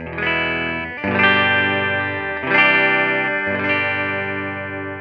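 Clean electric guitar through a Marshall-style 50-watt master-volume combo amp, with several strummed chords ringing out bright and sustained, each new strum cutting in about every second and a half.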